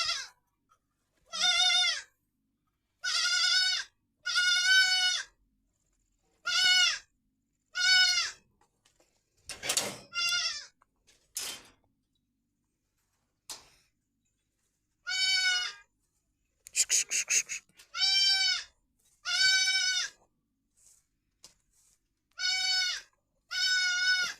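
A young Sirohi goat kid bleating again and again, loud and close, in short wavering calls separated by pauses, with a few faint clatters between them.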